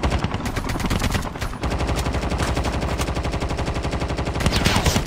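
Sustained automatic gunfire with shotgun blasts in Call of Duty Mobile, a dense, loud, rapid rattle of shots running nearly nonstop with a brief pause early on.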